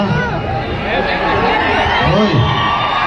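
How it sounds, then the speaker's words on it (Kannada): A crowd at a village fair comedy show cheers and whoops steadily throughout, a dense, loud roar of shouting voices and chatter with children's cries mixed in. "ಅವ್ರಿಗೆ ಒಂದು ಜೋರಾದ ಚಪ್ಪಾಳೆ ಹೊಡೀರಿ"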